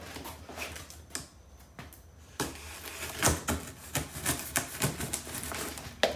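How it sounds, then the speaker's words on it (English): A deburring tool cuts through a cardboard box, giving a run of scraping, tearing strokes with sharp crackles and irregular bursts at close range, and no voices. "More cutting through the box"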